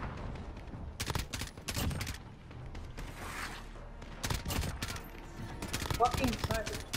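Sniper fire and gunfights in the video game Call of Duty: Modern Warfare, with repeated sharp loud shots in bursts scattered across the scene, overlapping with people talking.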